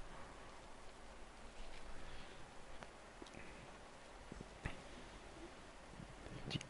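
Quiet, steady rain falling in a survival video game, a soft continuous hiss with occasional sharper drop ticks and faint background sounds.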